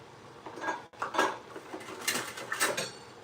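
Stewed cabbage being stirred in a pot, with a spoon scraping and clinking against the metal in several short, close bursts of scraping and tapping.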